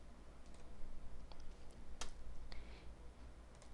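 Light computer mouse clicks come while importing an image into CorelDraw X4, a few scattered, sharp, close ticks over a low steady hum, with no speech.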